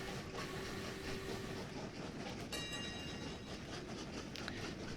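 Trains rolling along laid track in the Train Valley puzzle game, a continuous rumbling clatter with a faint tonal whine and a brief bright metallic ring midway, steady and close with no talking.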